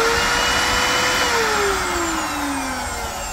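An old, bagless vacuum cleaner runs with a loud, close, steady whine and roar, its pitch sliding down partway through, with no talking.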